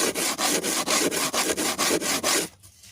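Fingernails scratch a surface close up to imitate a noise, making about ten quick, even, rasping strokes in a steady rhythm before stopping abruptly.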